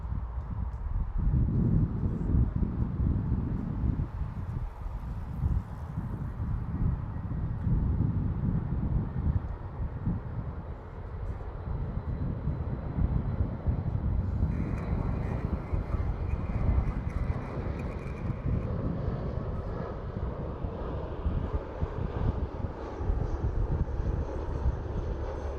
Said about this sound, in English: We have an arrival from Montreal, Air Canada, 320